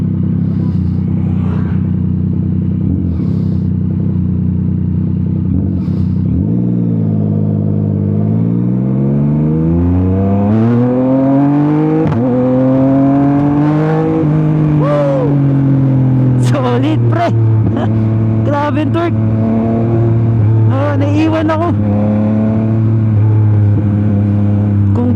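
A Yamaha MT-09 SP motorcycle in sport mode idles, then revs and accelerates hard, its loud close engine note climbing and shifting through gears with a sustained roar and wind noise.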